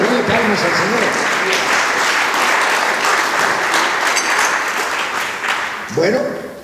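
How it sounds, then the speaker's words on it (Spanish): A church congregation claps together in a dense, loud burst of applause that carries on for several seconds, then fades out as a voice begins speaking. "dale palmas al Señor"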